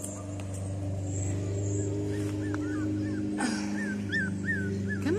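Young puppies outdoors give a run of high whimpers and short yips, several overlapping cries close by against a steady low hum.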